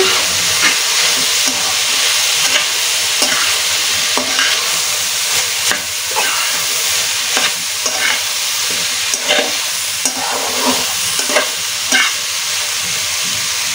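Sliced onion, green chili and cauliflower sizzle loudly in oil in a pan for a Bengali cauliflower bhaji, a steady hissing fry broken by scraping stirs at irregular intervals, no talking.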